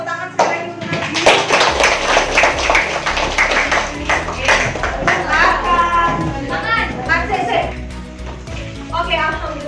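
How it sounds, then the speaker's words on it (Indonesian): Children clapping for a classmate in a school classroom, a lively, close burst of uneven hand claps that carries on over the whole stretch, mixed with children's chatter and voices. "tepuk tangan sekali lagi untuk Nadia"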